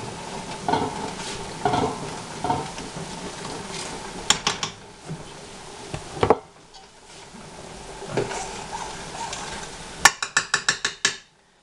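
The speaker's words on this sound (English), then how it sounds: "give that a stir" Spoon stirring lentil and vegetable soup in a pot on a stovetop, with soft scraping and clinks against the pot over a low sizzle, ending in a quick burst of sharper taps.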